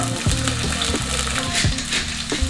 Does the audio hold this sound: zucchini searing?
yes